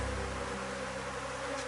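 Honeybees buzz steadily at a swarm hive, a close, continuous dense hum with no other sounds.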